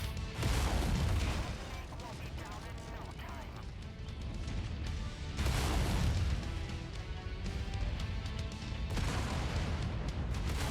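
Ammo explosion in a mech combat video game, a loud sustained rumbling blast with heavy low boom and crackling bursts, dense and continuous, with someone talking over it.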